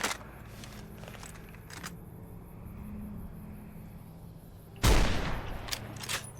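Single heavy anti-materiel rifle shot in Fallout: New Vegas, a sharp loud blast with a rumbling tail, set apart from quieter scattered game clicks and ambience.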